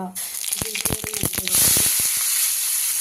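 Sliced onions and green chillies drop into hot oil in a pan with a burst of sharp crackles, then settle into a loud, continuous close sizzle.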